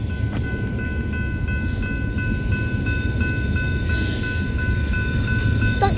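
Train rumbling past at a crossing on New Year, a steady heavy low roar with a continuous tonal whine, loud and close, with no voices.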